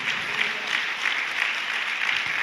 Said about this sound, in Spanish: Ahora puede aplaudir al Señor.